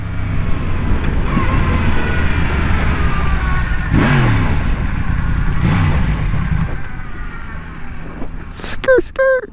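A motorcycle fitted with a quad exhaust accelerates hard on the highway, its engine roaring loudly and continuously through gear changes, with a voice briefly heard near the end.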